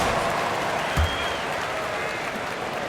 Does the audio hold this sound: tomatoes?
no